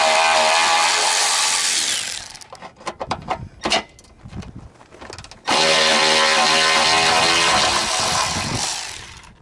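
A power tool loosening 10mm bolts from the bumper reinforcement of a 1994–99 Subaru Outback or Legacy wagon: two long, loud, close bursts of whirring, with a choppy stretch of short clicks and rattles between them.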